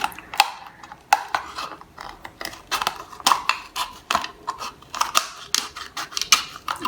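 Scissors snip through a PET plastic bottle in a quick series of sharp, crisp cuts close to the listener, repeating in an uneven rhythm with short pauses between strokes.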